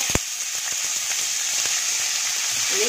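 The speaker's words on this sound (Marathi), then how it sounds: "गॅस फ्लेम स्लो ठेवूया आणि कांदा वगैरे आपण हे सोनेरी रंगावर परतूया" Onion sizzles in a pan with cumin, ginger, garlic and bay leaf, a loud, even hiss from start to finish. A few sharp spatters and taps stand out early on. No one speaks.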